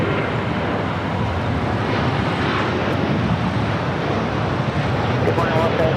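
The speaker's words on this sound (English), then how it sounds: "Air Premia Dreamliner heading back to Seoul, rolling down 25 right." An Air Premia Boeing Dreamliner rolls down runway 25 right at LAX on its takeoff run, a steady, loud broadband jet roar that holds evenly throughout with no pauses.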